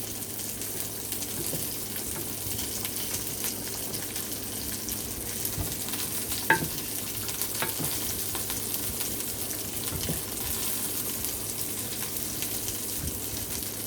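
A pan of fresh tomato sauce sizzles and bubbles softly and steadily, with a few faint clinks, no voices.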